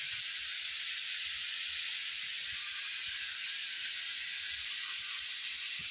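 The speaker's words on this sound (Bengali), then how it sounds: "পেঁপে আলু, এটা কষা হচ্ছে" Papaya and potato sauté in a pan, giving a continuous even sizzle and hiss that stays loud and steady throughout, with no talking.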